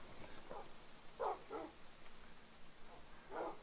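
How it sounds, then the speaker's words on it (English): Dogs in Minecraft, newly tamed with orc bones, give several short game-style barks and yips at irregular intervals over a faint steady background, with no talking. "Oh, we could tame loads of dogs."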